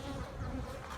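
Honeybees buzz steadily and close during a beehive inspection, a dense continuous hum of many wings with no voices.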